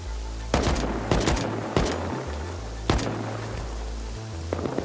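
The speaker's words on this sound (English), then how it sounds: "that's when I heard AK shots coming towards me from the distance" Several separate AK rifle shots ring out in a survival video game, four or five sharp reports spaced a second or so apart over a low steady rumble, sounding somewhat far off.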